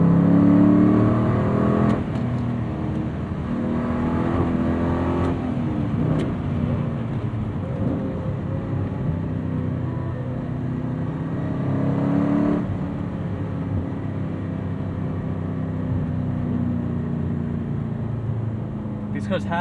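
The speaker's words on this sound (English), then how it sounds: "That V8 rumble, pushrod sound, very American." A 2004 Chevrolet Corvette C5 Z06 with a pushrod V8 rumbles and revs, its deep engine note swelling and easing for nearly twenty seconds, with someone talking over it.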